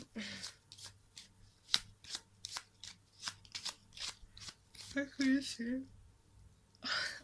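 Tarot cards being shuffled by hand in a rapid series of crisp riffling flicks and taps, close up, with a person talking briefly near the end.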